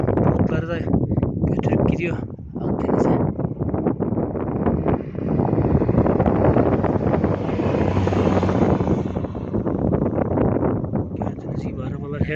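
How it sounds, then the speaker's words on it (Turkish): Strong northeasterly poyraz wind buffets the microphone in a continuous roar in Gözleve, with someone talking over it throughout. "Poyraz rüzgarı güzel esiyor"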